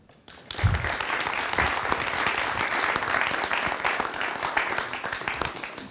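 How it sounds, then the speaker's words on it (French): Audience applause at a club gathering begins suddenly and builds into a full, sustained round of clapping from a room of people, steady for several seconds before easing slightly. "je voulais qu'on applaudisse le travail de toute l'équipe de TLM"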